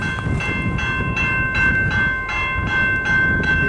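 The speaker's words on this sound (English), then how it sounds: "Train coming." A CN freight train with GECX, UP and CN locomotives rumbles past close by in Port Huron, with rhythmic clacking of wheels over rail joints and a steady mechanical drone.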